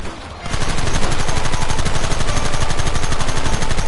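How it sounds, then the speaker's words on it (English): Sustained, dense gunfire in a Red Dead Redemption gun battle, rapid overlapping shots forming a loud continuous barrage that starts after a brief quieter moment and keeps going without pause. "Targets on the horizon. Fire at will!"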